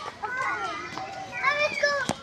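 Children's voices rise and fall close by in a loud, busy mix of shouts and chatter during a zoo visit, with a sharp shriek near the end.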